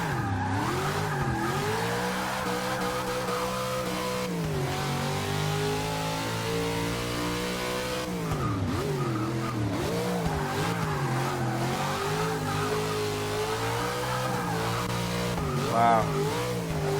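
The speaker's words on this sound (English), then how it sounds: "this is actually a very pleasant car to drive" A 1969 Dodge Charger tuned for drifting in Forza 6 revs hard through close gear shifts, its engine note rising and falling with brief tire squeals, loud and continuous with no talk.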